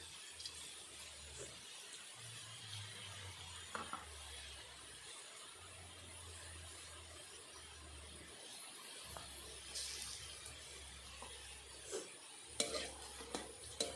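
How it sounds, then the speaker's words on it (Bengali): Boondi batter dropping through a strainer into hot oil for spicy chanachur, a soft steady bubbling sizzle with faint scrapes and occasional clinks, close and moderately quiet, no talking. "দেখুন বন্ধুরা টপ টপ করে পড়ছে আর প্রত্যেকটা বুঁদিয়াগুলো গোল গোল হচ্ছে"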